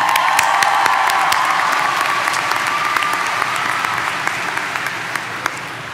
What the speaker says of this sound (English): Please give a round of applause for Ms. Corey Lee, our senior class presiden